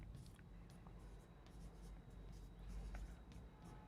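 Marker or chalk scratching notes onto a board during a history class, faint, irregular strokes at low level with a quiet room hum beneath.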